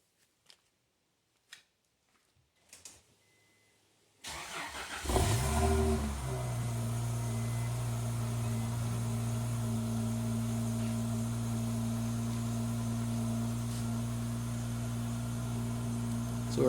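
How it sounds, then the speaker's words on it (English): A 2003 Acura CL Type-S with a Comptech header exhaust cold-starts after a few quiet clicks, catching with a loud crank and flare, then settling into a steady, elevated high idle close by. "So let's see what happens when we give it a cold start."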